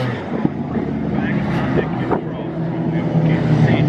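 Strong wind buffets the microphone with a constant low rumble and roar, close and loud throughout, at a speedway.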